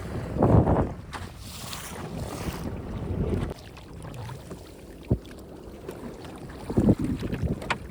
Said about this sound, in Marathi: बघा लाटा एकदम मोठ्या लाटा येतात.